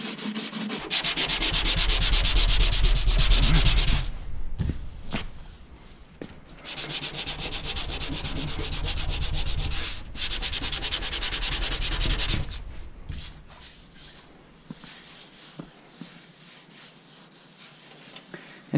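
Sandpaper rubs over primer on the body of a 1996 turbo Honda Civic in brisk, close strokes, two long bursts of scratchy rasping split by a short pause, then lighter intermittent scuffing that fades.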